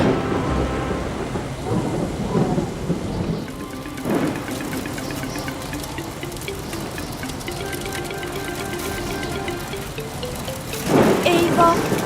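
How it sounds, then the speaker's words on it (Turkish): Cartoon thunderstorm with heavy rolling thunder and steady rain, loud crashes near the start and end with a constant hiss of rainfall between, and a voice speaking over the storm. "Hava gittikçe kötüleşiyor. Fırtına olacak gibi görünüyor."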